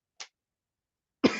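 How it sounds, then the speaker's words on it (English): A single person coughing, one small short burst followed a second later by a stronger, louder cough, close and alone. "I'm coughing too much"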